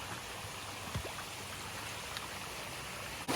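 Water rushes down a rocky water slide where it crosses a hiking trail on the Appalachian Trail, a steady close wash of flowing stream with small splashes throughout.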